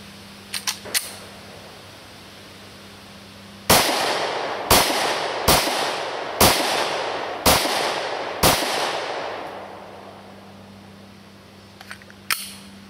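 Glock 36 pistol gunshots crack out one at a time, six sharp, close, loud reports spaced about a second apart, framed by a few faint clicks before and after.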